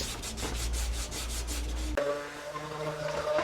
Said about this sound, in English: And now I'm left over here sanding on my own.